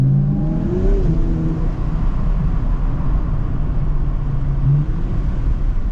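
A Subaru BRZ engine idles and revs up and down while warming up late at night downtown, its loud, steady exhaust rumble swelling with rising pitch sweeps over six seconds.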